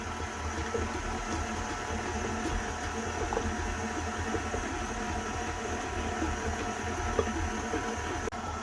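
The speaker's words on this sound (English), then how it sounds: "Then turn off the mixer and put in your spices." An electric mixer beating pumpkin pie filling with a steady, continuous mechanical whir and hum that stays even throughout, close by and without talk.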